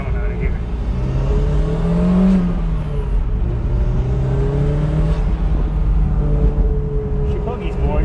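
A Toyota MR2 turbo engine pulls loudly from inside the car as it accelerates out of a spot, its rising and falling revs sweeping across the gears, while someone talks over it.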